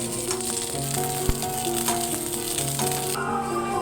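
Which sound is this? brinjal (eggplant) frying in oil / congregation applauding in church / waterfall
brinjal (eggplant) frying in oil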